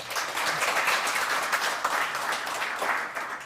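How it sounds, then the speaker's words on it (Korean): An audience applauds at a defense industry breakfast forum, a dense, steady round of clapping from many hands that is moderately loud and sustained throughout, with no voices. "다시 한번 큰 박수 부탁드리겠습니다"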